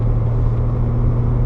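A 1987 BMW 325is E30 six-cylinder engine droning steadily while the car is driven, a loud, even, low harmonic rumble heard from inside the cabin.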